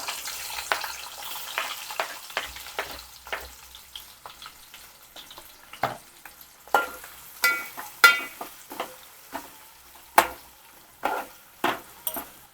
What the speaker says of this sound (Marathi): इथे कांदा मी टाकते आधी फोडणीला